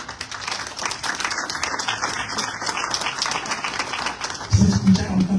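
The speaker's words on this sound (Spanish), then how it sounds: "A ver los aplausos para mi dibujo." Audience clapping in response to a call for applause for a drawing, a brief burst of mixed handclaps and crowd noise, fairly close and continuous.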